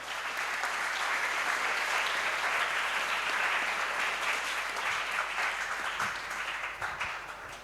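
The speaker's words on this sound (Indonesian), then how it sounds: "Tepuk tangan buat beliau." A crowd at an Indonesian talk show applauds a speaker, dense steady clapping that fills the room and fades out near the end, with no talking over it.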